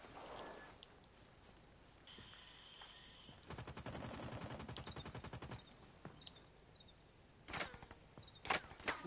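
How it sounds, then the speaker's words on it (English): Video game gunfire crackles in a rapid automatic burst, a fast run of sharp shots lasting a couple of seconds, followed by a few scattered louder single reports near the end, with no talk over it. "Somebody's shooting at me"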